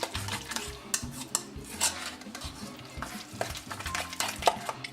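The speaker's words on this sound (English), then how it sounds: "let's go ahead and get that a good mix" A tuna ball mixture is stirred in a bowl with a utensil, giving steady scraping and clinking with occasional sharper knocks, close up and moderately loud, with no talking.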